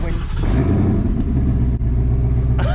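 A Ford Mustang GT V8 with a stock exhaust idling after startup, a deep steady rumble close by with a slight rev, and a brief voice near the end.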